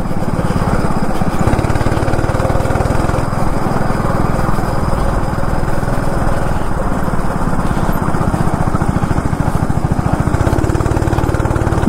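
A go-kart engine buzzes loud and close on a race track along ECR in Chennai, a constant, rough, mower-like drone that runs unbroken, with a voice talking faintly underneath.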